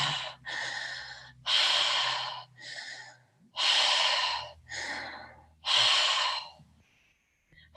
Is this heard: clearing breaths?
yes